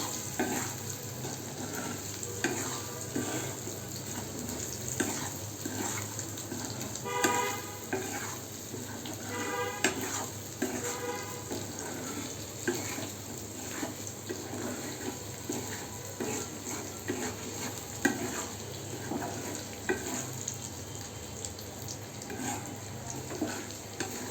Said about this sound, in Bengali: তো সেই ভেজে রাখা গোশটা এখন ঢেলে দেওয়া হলো মশলার সঙ্গে। এটা এখন সুন্দর করে আবার নাড়াচাড়া করা হচ্ছে